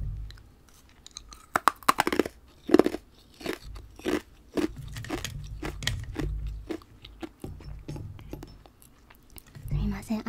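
Ice being bitten and chewed close to the mic in a Japanese ice-shop roleplay, with sharp crunches and crackles in irregular bursts, then softer grinding mastication, with occasional quiet voice.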